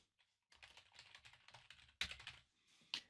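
An email address is typed on a computer keyboard in quick, close, soft keystrokes with a short pause and a couple of sharper taps at the end.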